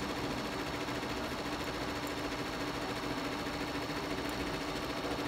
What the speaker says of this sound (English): it's making a beautiful satin stitch for the applique